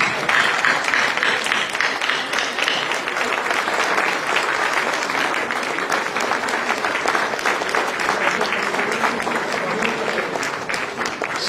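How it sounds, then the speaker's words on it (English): A standing audience at a spiritual gathering delivers long, loud, continuous applause, a dense wash of many hands clapping that holds steady before easing slightly at the very end. "a round of applause."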